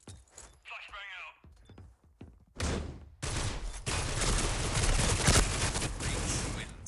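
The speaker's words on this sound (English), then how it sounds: "Flashbang out." Flashbang going off during a competitive Call of Duty League EU esports match after the bomb is planted on A, a loud burst followed by sustained gunfire and game noise, with commentators talking early on.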